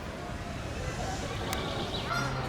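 Ducks honk and quack faintly through steady outdoor background noise at the Jardin d'Acclimatation park, a few short calls rising above the hiss.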